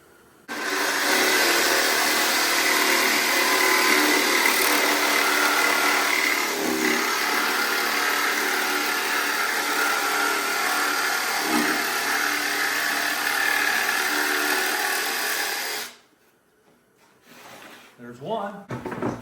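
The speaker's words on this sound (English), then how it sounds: "But I have a jigsaw that works very well." A power jigsaw cuts through wood in one long, continuous buzzing run close by, then cuts off, leaving faint handling noises and a voice.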